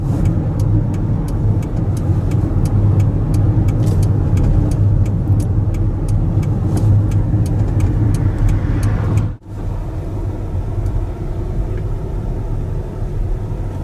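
A car drives along a road, heard from inside as a steady low rumble of engine and tires, with a brief dip in the noise partway through before it settles back to an even drone.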